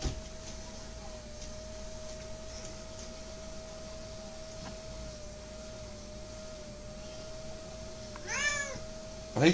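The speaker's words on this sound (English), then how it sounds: "Here's my little cat, Benji." A quiet room with a faint steady hum, then near the end a Bengal cat gives a short, fairly close meow.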